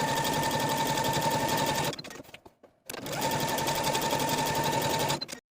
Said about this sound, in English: take it to the sewing machine and sew down both long edges